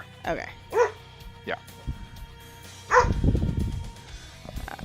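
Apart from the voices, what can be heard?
dogs barking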